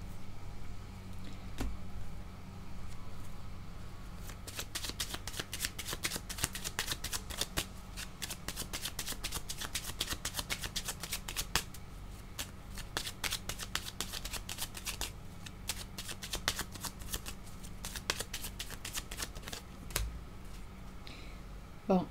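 Tarot cards being shuffled by hand during a card reading, a long run of crisp riffling flutters and soft slaps repeating in quick bursts close to the microphone, with a faint low hum and occasional voice beneath.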